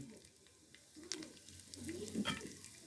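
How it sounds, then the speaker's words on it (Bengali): Whole cumin seeds crackle faintly in hot oil in a pan with pieces of already-fried fish, a soft, steady sizzle that swells slightly toward the end, with no one talking. "দেখুন আমি মাছটা কষে নিলাম, মানে ভেজে নিলাম। গোটা জিরে দিয়ে দিচ্ছি।"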